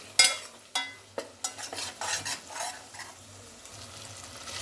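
Ginger-garlic paste frying in hot oil for chicken dum biryani crackles close up, with a run of spoon strikes and scrapes against the pan early on, easing into a steadier sizzle; no talking.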